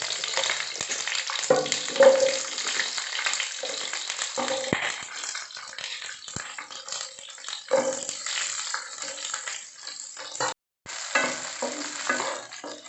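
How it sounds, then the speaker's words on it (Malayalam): Whole shallots sauté in hot coconut oil, a continuous close sizzle with spoon stirring scrapes throughout and a short break near the end. "ഇനി ആ വെളിച്ചെണ്ണയിൽ തന്നെയാണ് നമ്മൾ ചുവന്നുള്ളി ഇട്ട് കൊടുക്കുന്നത് വഴറ്റാൻ വേണ്ടിയിട്ട്"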